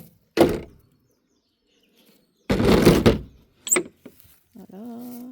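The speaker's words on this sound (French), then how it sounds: "on va refermer le pondoir, la porte du pondoir" The wooden door of a chicken nest box is shut with a couple of distinct knocks and scrapes, separated by quiet gaps, followed by a brief chirp and a faint tonal hum.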